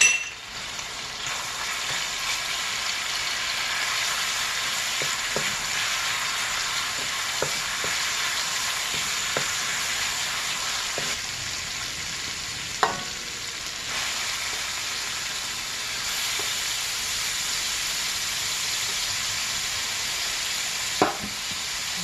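Garlic sizzles and fries steadily in a hot pan for seafood fried rice, a continuous crackling hiss with a few soft utensil taps and scrapes, no voices.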